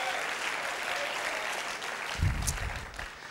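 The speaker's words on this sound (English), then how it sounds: "somebody clap your hands" Church congregation clapping in praise during a sermon on spiritual warfare, a steady wash of applause with a louder burst near the end, faint and somewhat distant.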